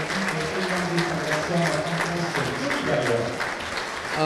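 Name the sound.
rugby crowd applauding player Johnny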